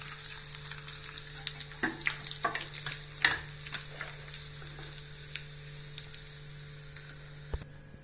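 Ingredients roasting in a pan with a steady close sizzle, punctuated by scattered crackles and stirring scrapes throughout, over a faint low hum, with no voices.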